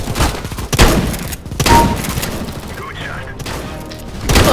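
Bursts of gunfire from a video game shooter crack and thump repeatedly at close range, layered under busy game noise and occasional talk.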